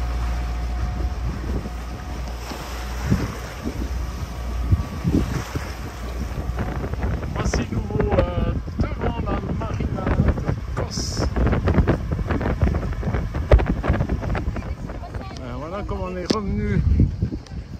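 Wind gusting across a sailboat under mainsail at sea near the Greek islands, a steady roaring rush with microphone buffeting throughout, close and loud, with people talking intermittently over it.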